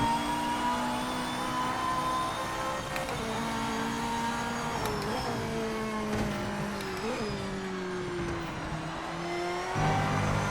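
GT3 race car in Project Motor Racing sim, engine humming at a steady pitch with small dips and rises through shifts, then a fresh rev near the end, loud and constant, no voices.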